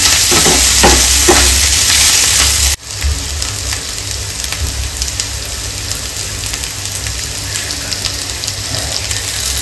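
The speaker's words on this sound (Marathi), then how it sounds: "शिमला मिरची आणि कांद्याचा जसं क्रंचीपणा पाहिजे असेल तर हाय फ्लेमवरच फ्राय करून घ्या।" Capsicum and onion frying on a high flame for chilli paneer give a loud, steady sizzle with a few stirring scrapes near the start and an abrupt dip before the hiss carries on.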